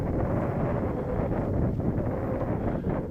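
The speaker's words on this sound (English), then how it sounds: "you might be able to hear in the microphone that wind has picked up a bit" Steady, loud wind buffeting an outdoor microphone at an RC flying field during flights of an XK Innovations A160 J3 Cub, a continuous low roar with gusty fluctuations and no voices.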